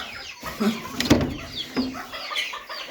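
Hens clucking inside a chicken coop kept shut in for the day, several birds trading close, loud clucks and squawks in overlapping bursts.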